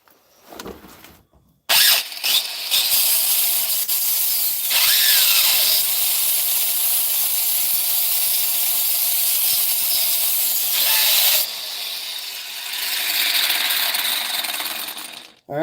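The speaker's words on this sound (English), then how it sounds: "Now we have the grinder, so we can commence with the grinding." An angle grinder cuts into a metal pipe with a loud, continuous, harsh grinding roar. It starts after a brief quiet moment and runs almost unbroken, with a short dip in pitch near the end.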